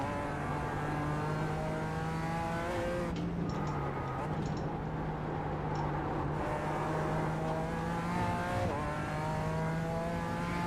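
Race car engine in iRacing on the Nürburgring Nordschleife during GT qualifying, a loud sustained whine with gear shifts and rising, falling revs heard close from the cockpit, a brief voice barely present.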